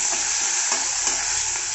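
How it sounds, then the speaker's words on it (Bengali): Onions fry in refined oil with a bright, constant sizzle while being stirred, the spoon scraping through the pan in soft repeated strokes. "আমি এখন এটা একটু নেড়ে নেব।"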